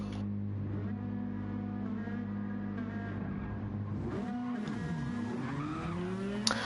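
A race car in a racing video game does a burnout with sustained tire squeal over a steady engine drone, the screech bending and wavering in pitch, loud and continuous throughout.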